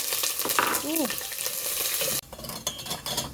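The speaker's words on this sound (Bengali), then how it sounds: "তেলটা দিয়ে দিলাম বসাই দিই তরকারি" A vegetable curry cooks in hot oil in a pan with a loud steady sizzle and stirring, a brief voice-like tone and a sharp drop in level partway through before the frying continues.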